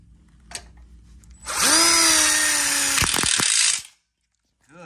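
A power drill drives a screw into the corner joint of an outdoor kitchen module built from connector tubing, with one loud, close, sustained whirring burst about two seconds long ending in a few sharp clicks, after some faint handling taps.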